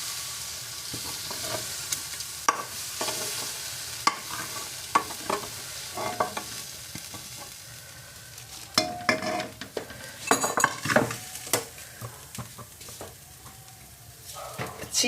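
Spice mix sizzles in hot oil inside a pressure cooker for chicken curry while a metal spoon stirs and scrapes, giving irregular clinks and clatters over a continuous frying hiss.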